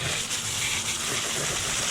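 A hose spray washes down a cheap 16th-scale RC car, a steady close hiss and splatter of water running without a break.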